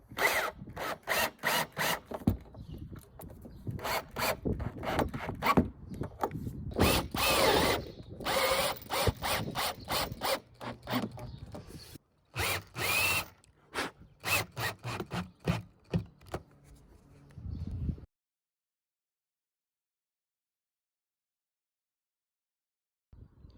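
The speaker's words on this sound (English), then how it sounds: "Bolting the solar panel into them plastic brackets that are already on the roof." Solar panel bolted down into plastic brackets on a micro campervan roof, a 160W unit, with repeated bursts of power-tool whirring and ratcheting, loud and close, broken by short pauses before stopping and leaving silence at the end.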